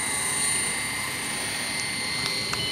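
A Goblin 380 RC helicopter with a GPS-equipped Skookum 720 Black Edition flight controller hovers nearby with a constant high-pitched motor and rotor whine, loud and steady, with no talking.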